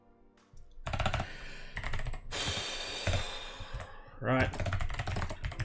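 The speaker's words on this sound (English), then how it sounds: "Oh god, good typing" Rapid computer keyboard typing comes in dense bursts of clicks while a game-logic AI is coded in Godot, loud and close, with a brief spoken word and pauses between runs of keystrokes.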